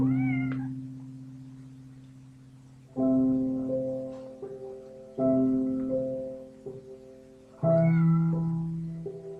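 A pet cat meows loudly and close, four long drawn-out yowls with pauses between, the last rising into a caterwaul, with no voices.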